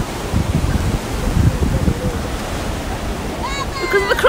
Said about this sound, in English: It's a beautiful beach, like a sandy beach.